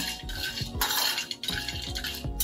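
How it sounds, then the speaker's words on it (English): Dry fruits are dry roasted in a big vessel, a busy rattle of metallic scrapes and clinks as the pieces are tossed and stirred, close and continuous. "I'm going to take the dry fruits first and dry roast them"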